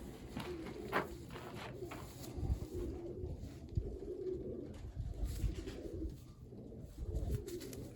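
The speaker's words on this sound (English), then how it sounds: "This is a kit pigeon that pulled out of my kit box." Birmingham roller kit pigeons coo softly in repeated low, throaty phrases at close range, with faint background noise and no talk.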